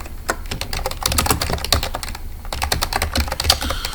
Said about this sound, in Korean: 가장 먼저 하셔야 되는 것은 바로 타자 입력입니다